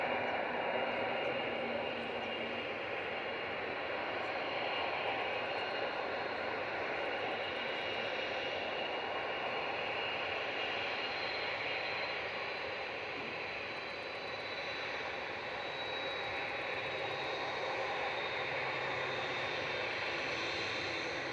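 A TUI jet bound for Palma de Mallorca powers up for takeoff at Manchester Airport, its engines holding a loud, sustained roar throughout with no talk.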